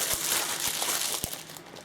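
A thin package envelope being cut open, a continuous close crinkling and rustling of paper with a few sharp clicks, no talking.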